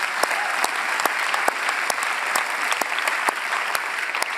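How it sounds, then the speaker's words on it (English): A church audience claps steadily, a dense even wash of applause with a few sharper individual claps standing out. "Yeah, let's just break out and applaud."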